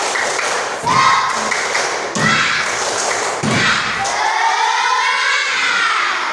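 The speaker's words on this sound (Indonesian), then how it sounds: "Oke, tepuk semangat." A classroom of students performs the 'tepuk semangat' group clapping chant during a maths lesson, with thudding bursts of claps at roughly regular intervals and shouted voices mixed in.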